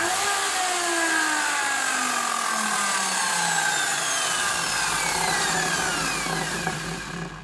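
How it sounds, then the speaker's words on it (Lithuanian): A hand saw trims the wooden back wall of a small portable Bluetooth speaker, a loud continuous rasping cut with a whining, sweeping tone close to the microphone. "Kad gražiai sulyginti galinę sieną pasiėmiau pjūklą."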